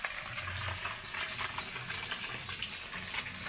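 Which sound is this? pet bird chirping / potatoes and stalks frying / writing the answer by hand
potatoes and stalks frying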